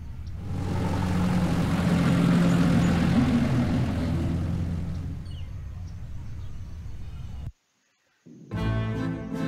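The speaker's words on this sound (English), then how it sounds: "Up his tickets at the airport and boards a plane for Munich" A passenger plane bound for Munich in the adventure game Gabriel Knight: Sins of the Fathers, a loud steady engine drone that swells, fades, cuts out abruptly, then briefly returns.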